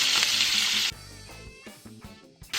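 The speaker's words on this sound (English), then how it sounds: "we're going to saute our onion for about 5 minutes" Onion hitting a mix of leftover sun-dried tomato oil and olive oil in a single pot, giving a loud hissing sizzle that drops sharply to a quieter crackle with a few utensil scrapes and clinks.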